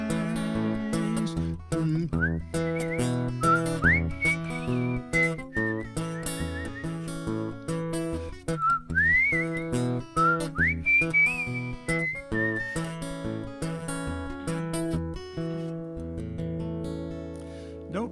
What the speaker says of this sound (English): Actually, man, you are a terrific whistler.